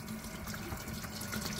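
Liquid glycol runs steadily through an exchange pump as it drains and fills a bucket, a constant close trickling and gurgling water flow with no break and no voices.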